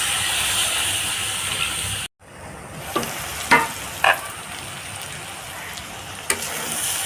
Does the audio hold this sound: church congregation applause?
no